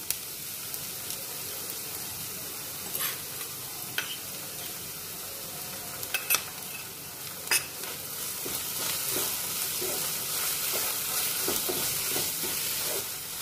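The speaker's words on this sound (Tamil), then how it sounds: "இப்போ இஞ்சி பூண்டு பேஸ்ட் ஆட் பண்ணிக்கலாம்" Ginger garlic paste sizzles and fries in a pan for an egg curry, with steady crackling broken by sharp stirring scrapes at irregular intervals, close and moderately loud, no talking.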